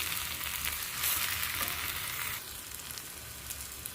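Prawns and tomatoes fry in a pan for a curry, giving a steady, close sizzle and crackle that swells briefly near the middle before settling to a softer hiss, with no talking.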